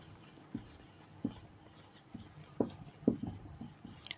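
Writing on a board or page during a Class 11 math lesson on sets: sparse, scratchy strokes in short bursts with gaps, fairly close and quiet, with no talk.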